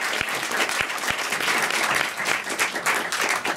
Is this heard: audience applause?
yes